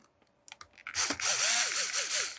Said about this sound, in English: So let's go ahead and take those 4 screws out.